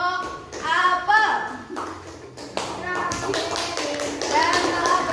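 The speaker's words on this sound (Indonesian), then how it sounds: "Tepuk tangan untuk kelompok apel." A third-grade class claps as applause for a group of pupils, brisk overlapping hand claps and taps mixed with children's voices in a classroom.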